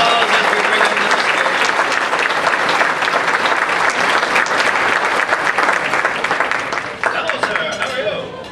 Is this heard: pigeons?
no